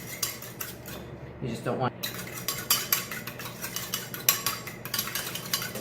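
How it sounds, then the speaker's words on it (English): A fork whisks egg and water together in a bowl for a homemade hamburger bun egg wash, making quick, rhythmic clinking taps up close, with a brief spoken phrase near the end. "Fork, just give it a quick whisk."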